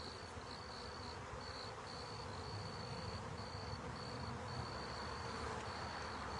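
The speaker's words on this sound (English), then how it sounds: "these bees that are flying around trying to find her pheromone will know to come back." Honey bees fly around an open hive during a spring hive check, a steady dense buzzing drone that holds at an even level throughout with no talk.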